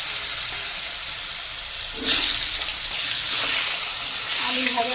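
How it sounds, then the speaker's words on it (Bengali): Potatoes drop into hot oil left from frying pointed gourd, and a broad hissing sizzle jumps up and holds steady, close and fairly loud over a low background. "এবার পটল ভাজা তেলে আলুগুলো ভেজে নেব।"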